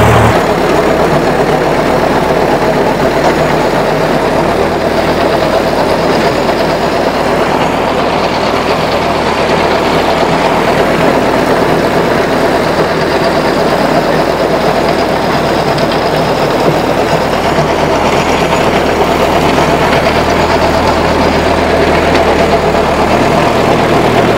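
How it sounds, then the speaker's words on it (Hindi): A heavy tractor engine drones loud and constant under load, a low grinding rumble as its rotavator tills rock-hard soil, with no voices. "ऐसी पत्थर जैसी मिट्टी को चीरने के लिए रोटावेटर में दम होना जरूरी है"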